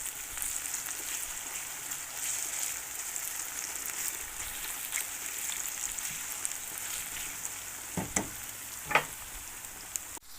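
Vegetables fry in a pan for a zucchini and mushroom dish, a soft, steady sizzle with a few brief clicks and scrapes near the end as the food is stirred.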